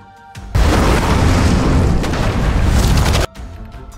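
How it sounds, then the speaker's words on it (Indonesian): A heavy explosion from bombs dropped by a bomber over a city in a film: a sudden, loud, sustained roaring blast lasting nearly three seconds before cutting off abruptly into quieter rumble. "pesawat pengebom yang sudah dekat di lokasi langsung menjatuhkan bomnya hingga kota itu hancur"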